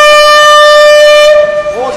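A train horn sounds at a railway market in Zunyi: one loud, steady, multi-tone blast holds for over a second, then breaks off as a voice speaks.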